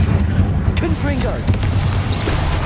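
A Confringo explosive spell blasts in the video game Hogwarts Legacy, giving a loud, booming, continuous rumble of bursts amid combat, with voices heard in between.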